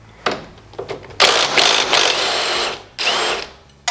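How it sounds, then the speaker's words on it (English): An impact wrench with an 18mm socket removes a bolt on a Porsche 996, firing in short close stuttering bursts, then two loud sustained hammering runs separated by a brief pause. "And then I'm just going to use my impact wrench on the bottom with an 18mm."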